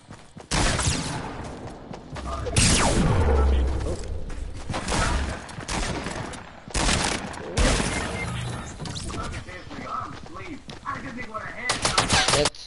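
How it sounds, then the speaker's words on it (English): Video game characters shooting at each other, with bursts of machine-gun fire and single gunshots coming in loud clusters separated by short lulls, plus occasional booms. "They all shooting at each other."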